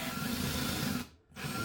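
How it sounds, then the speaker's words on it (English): A power drill bores holes into the leg of an antique wooden chair with a steady, close buzzing whir that briefly drops away near the end, then resumes. "let's drill those holes first"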